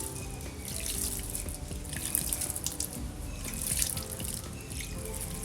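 Water pours from a tap or jug onto the soil of a newly potted indoor plant, making a continuous close splashing trickle with a few drips and no voices.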